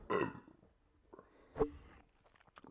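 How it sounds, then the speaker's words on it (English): A short, low guttural burp breaks out near the start, followed by a brief throaty sound a moment later, close to the microphone and otherwise quiet with faint background noise. "Burped probably picked that up."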